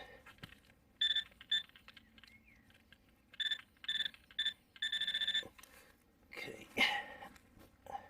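Minelab Equinox 800 metal detector beeping over a buried hammered coin in a field, several short, bright electronic tones repeated in quick bursts, with a faint voice and rustling near the end.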